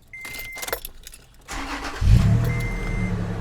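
A 2013 Toyota FJ Cruiser fitted with a throttle booster is started up close by: brief keys jangle, then the starter kicks in around halfway and the engine catches into a loud, steady idle, with no talking.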